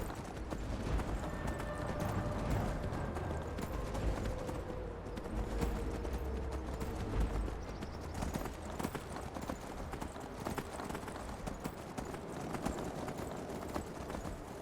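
A horse gallops in the video game Skyrim, rapid steady clip-clop hoofbeats running continuously at a moderate level with no voices.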